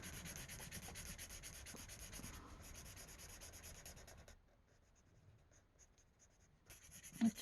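A pencil scratches and rubs across paper in quick strokes while someone colors in a coloring book, close and soft, pausing briefly before resuming.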